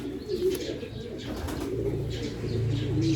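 Pigeons cooing close by, soft throaty repeated coos overlapping in a loose rhythm against faint background chatter of other birds.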